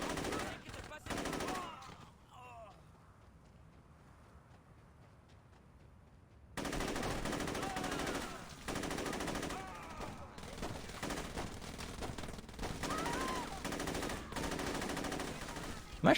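AK rifle fire in the Saints Row video game comes as rapid automatic bursts and scattered shots, loud and dense, with a quieter pause early on before the shooting resumes.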